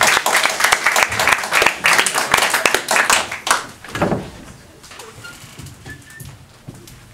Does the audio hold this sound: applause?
yes